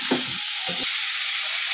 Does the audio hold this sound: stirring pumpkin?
yes